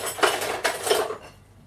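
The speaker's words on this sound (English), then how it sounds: "So let me just get a spoon." Cutlery rattles and clinks as a spoon is picked out during home cooking of a chicken pasta bake, with two or three quick metallic jostles close by before fading to quiet.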